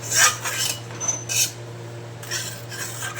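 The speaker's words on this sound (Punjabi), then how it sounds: "ਇਹਨੂੰ ਪਾਣੀ ਨੂੰ ਇਸੇ ਤਰੀਕੇ ਨਾਲ ਹੀ ਹਿਲਾਉਂਦੇ ਰਵਾਂਗੇ ਹਜੇ ਵੀ ਆਪਾਂ" Metal utensil scraping and clinking against a burnt iron wok while stirring water in it, in short repeated strokes, with a steady low hum underneath and no voices.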